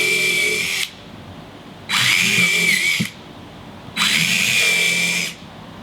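A power drill drives screws into a wooden children's hall tree in three loud bursts of whirring, each about a second long, separated by short pauses.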